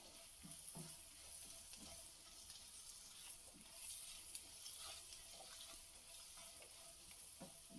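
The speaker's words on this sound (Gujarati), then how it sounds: "આવી રીતે 30 સેકન્ડ માટે આપણે ફ્રાય કરી લેશું." Grated ginger and green chili frying in a pan for dhaba-style paneer butter masala: a soft, even sizzle with a few stirring knocks, quiet and steady throughout.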